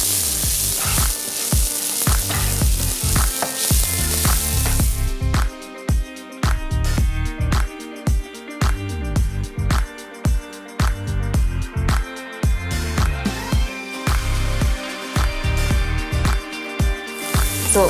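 Onions for a vegan protein burger frying in a pan, a loud continuous sizzle close up, broken by rhythmic stirring scrapes and clatter through most of the stretch, with no talking.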